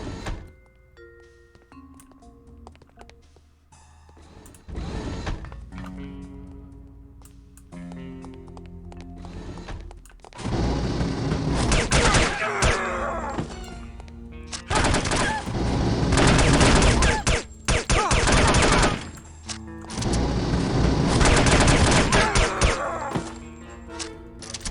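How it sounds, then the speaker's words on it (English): Gunfire in the spy shooter game No One Lives Forever: after a quieter musical stretch, loud, dense bursts of shooting crash in and repeat in long volleys, with brief gaps between. "That was some random shooting there on my end."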